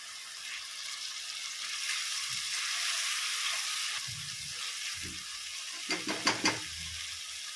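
Ginger garlic paste frying with tomatoes in a pan, a steady close sizzle with a few clinks and scrapes of stirring near the end.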